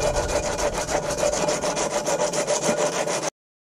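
A file rasps back and forth across a steel knife blade made from a big bearing, a quick regular stroking rhythm, close and steady for about three seconds before cutting off.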